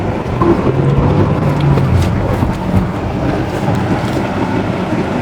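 A Tata car on a test drive, heard from inside as a steady low road and engine rumble with broadband tire noise, loud and continuous throughout.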